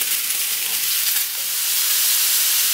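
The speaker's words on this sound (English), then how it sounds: "So you want to saute your mushrooms for about 4 or 5 minutes until slightly softened." Mushrooms sauté in a hot pan with a steady, close bright sizzle and hiss that holds evenly throughout, with no voices over it.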